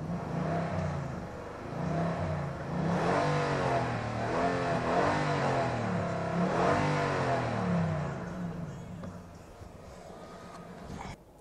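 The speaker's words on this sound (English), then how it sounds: "I typically love V8 engines, but I wish there was something else they could do with this engine note. It just doesn't sound that throaty." A 2019 Nissan Titan PRO4X pickup's V8 engine revving up and down in several rising and falling sweeps, loud and close, with a smooth rather than throaty note before easing off near the end.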